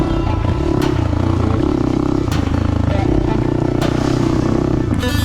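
A Hero Xpulse motorcycle on full knobby tires rides through mud. Its engine drones loud and steady for the whole stretch, with clattering and a few sharp knocks over the top.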